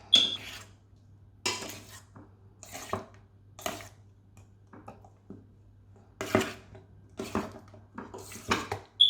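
Salmon being turned and marinated in a bowl: a series of clinking, scraping knocks of utensils against the dish, irregular and close, separated by quiet gaps over a low steady hum.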